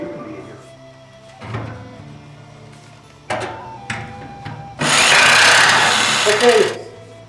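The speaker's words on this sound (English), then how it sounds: "the saber saw worked pretty good. It's noisy" A saber saw cuts a hole during a vintage air conditioning install, a loud, harsh burst lasting about two seconds that follows quieter clanks and handling knocks.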